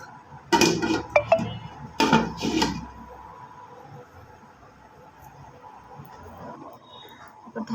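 A lid lifted off a cooking pot of khichuri, with a few clanking metal knocks and clinks early on, then quiet kitchen background.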